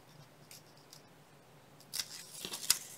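Scissors cut through greeting card paper, a few faint quiet snips early on and then a closer, louder run of crisp cuts toward the end.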